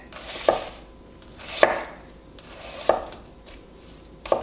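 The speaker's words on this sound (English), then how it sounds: "And we will endeavor to get the onion sliced." Knife slicing an onion on a cutting board for cortido: four sharp, evenly spaced cuts land on the board about a second apart, each with a brief crisp knock, close by and alone.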